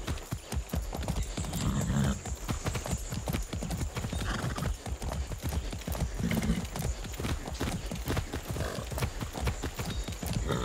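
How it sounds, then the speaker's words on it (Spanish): Horse hooves clip-clopping at a steady walking rhythm in the video game Far Cry 6, close and clear for about ten seconds, with a couple of brief snorts or whinnies mixed in. "¿Listo para partir, caballo?"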